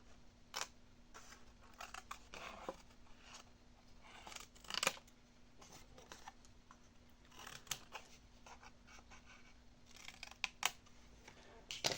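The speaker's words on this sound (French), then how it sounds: "Ensuite, on va couper pour nos pochettes." Scissors snip through paper to cut pockets for a handmade scrapbooking card, a series of quiet, crisp cuts at irregular intervals, close up and alone.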